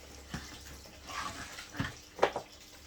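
Fish tank water poured onto indoor potted plants, a few separate splashy gushes and trickles spaced apart, close and moderately loud, with no voices.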